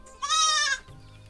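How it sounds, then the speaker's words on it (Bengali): A goat gives a single, clear, fairly close bleat lasting about half a second at a simple homestead on Shildaha char, a river island in Bangladesh. Quiet rural background follows. "আমার চারপাশে ছাগল, গরু, মুরগির শব্দ।"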